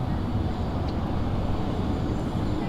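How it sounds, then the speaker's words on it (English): A Boeing 777 airliner starts up its engines at Manchester Airport, some distance away. It is a steady, broad roar and whine that holds at an even level throughout. "It's a very distinct sound, the 777 starting up its engines."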